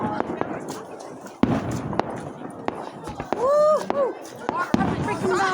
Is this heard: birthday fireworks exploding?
yes